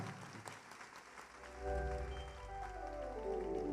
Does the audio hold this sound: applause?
yes